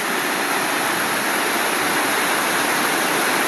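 Roaring waterfall swollen after heavy rain in Pennsylvania, a loud, steady, dense broadband rush of falling water filling the whole clip without pause and with no voices.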